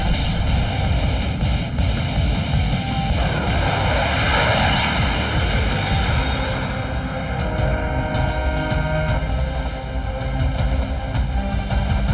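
Cartoon aircraft roaring through the air in a kids' animated scene, a loud continuous engine drone with a whooshing swell midway and steady broadband rumble throughout.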